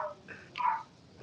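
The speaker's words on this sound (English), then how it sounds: "Is that someone let the dogs out?" A dog barks somewhere in a home, two short yelping barks a moment apart, the second louder and longer, fairly close by.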